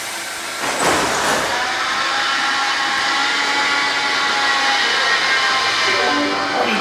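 A Budapest metro train rumbles and whooshes loudly as it runs, a steady roar with rising and falling mechanical whine throughout.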